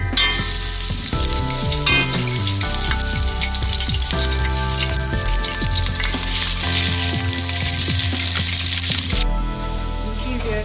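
Garlic and ginger sizzle steadily in hot oil for chicken korma, a loud continuous frying hiss close up with occasional stirring clatter.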